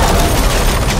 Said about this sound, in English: an explosion ripped open the floor